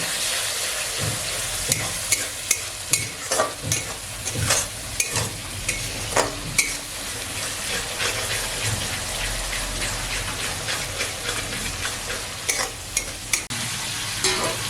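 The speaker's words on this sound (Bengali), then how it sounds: "আমরা মাংসটা মশলার মধ্যে দিয়ে দিলাম ভালোভাবে নেড়ে কষিয়ে নেবো" Local duck meat is stirred and fried in spice paste with a splash of water, giving a loud, continuous sizzle with rhythmic scraping and clanks of the spoon against the pot throughout.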